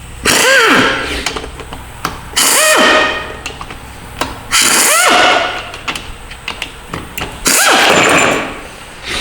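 T40 Torx bolts being removed from a 5R55W transmission: four loud bursts of ratcheting and whirring from a power tool, each lasting about a second, separated by short pauses with light metallic clicks.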